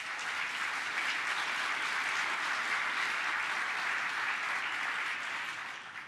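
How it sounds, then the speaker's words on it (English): An audience at a nurse pinning ceremony applauds steadily, a dense crowd of clapping hands that holds for several seconds before starting to taper off. "Please give a round of applause for all of our nursing instructors"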